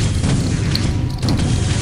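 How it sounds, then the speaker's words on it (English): Rocket launcher blast in Quake 3 arena combat, a loud, dense booming roar that fills the whole short stretch, with brief higher pops layered on top. "This is a rocket launcher."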